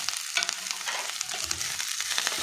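Coriander leaves and mint fry in hot oil in a pan, a close crackling sizzle broken by sharp pops and the scrape of stirring.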